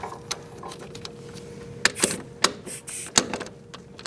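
Bolt being loosened with an E18 inverted Torx bit on a 2008-2014 Mercedes-Benz C300 3.0L V6 during front CV axle work, a handful of sharp metallic clicks and ratchet taps spaced unevenly over a quiet background.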